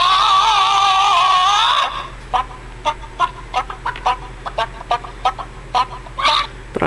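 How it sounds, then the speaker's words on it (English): Chicken clucking ringtone playing on an iPhone 3G: a burst of loud, squawking hen calls, then a run of short, separate clucks repeating at an uneven pace, with no talking. "and chicken ringtone. There it is."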